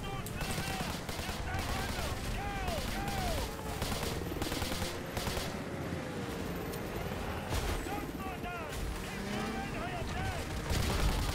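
Gunfire from the video game MW2 Campaign Remastered, a dense continuous volley of rapid shots and bursts layered with battlefield noise throughout, while a voice talks over it.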